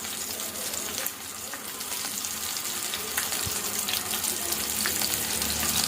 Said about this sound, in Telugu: నేను స్టవ్ మీద బాండి పెట్టుకొని ఇందులోని తాలింపు పెట్టుకుందామండి. పచ్చిమిర్చి, ఎండుమిర్చి, ఆనియన్స్ అన్నీ వేసుకున్నామండి.